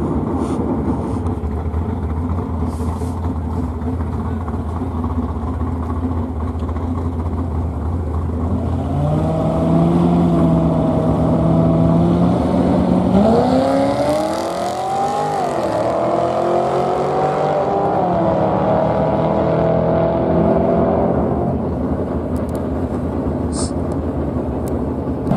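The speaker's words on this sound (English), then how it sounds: "Jose Campos going after it in the Corvette. This might be a pretty decent race" A Corvette launches and races down the Barona drag strip, its engine droning steadily, then climbing in pitch as it accelerates through the gears, fairly loud, with an announcer talking over the run.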